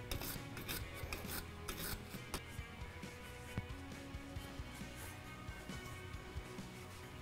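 Rasping, scraping strokes of cleaning dirt, mud and rust from around the inner tie rod on a 2021-or-newer Ford Bronco, a steady run of uneven scrubbing close up with no talking.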